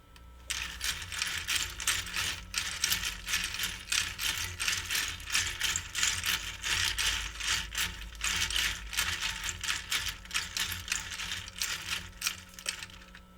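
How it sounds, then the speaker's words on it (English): Magnetic stir bar spinning in an NaCl solution, a steady rapid rattling and ticking that runs continuously for over ten seconds, fairly close with a faint low hum beneath. "The stir bar is moving, which is good."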